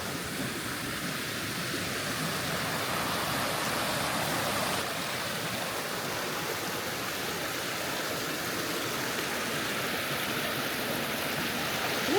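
Water cascading down from volcanic cirques makes a steady, broad rushing roar, continuous and fairly distant, with no talk over it.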